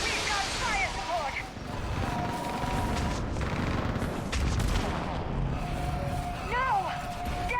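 Continuous gunfire and heavy booms of artillery fire support fill a Mass Effect 3 battle, dense and loud with whining projectiles, while voices shout over the din.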